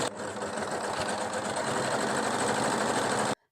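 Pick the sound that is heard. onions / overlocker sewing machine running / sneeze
overlocker sewing machine running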